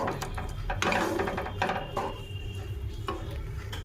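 Food being mixed in a bowl while cooking colourful luchi at home, with a run of close scraping, clinking stirs and soft taps on the bowl in an uneven rhythm, no voices.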